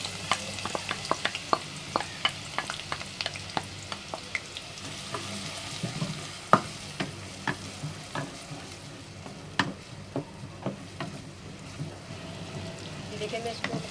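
Chopped onion frying in hot oil in a pot sizzles softly and continuously, with a regular patter of stirring scrapes and clicks throughout, close and moderately quiet.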